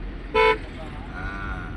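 One short, bright toot of a car horn, followed by the steady hum of traffic and engine noise.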